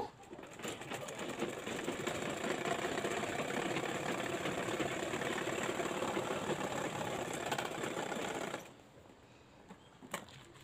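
A sewing machine top-stitches a fabric bobbin bag, running in a steady, even buzz for about eight and a half seconds before stopping abruptly, with no talking.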